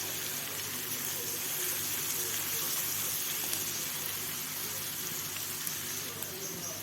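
Garlic and ginger sizzle in a frying pan while being stirred, a steady, fairly soft hiss that runs unbroken from start to finish with no voices.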